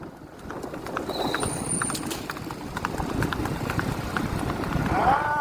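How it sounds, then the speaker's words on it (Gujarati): Hooves of a horse clip-clop steadily at a quick pace through the whole stretch, close and fairly loud, with voices talking over them outdoors. "હા ઘોડો"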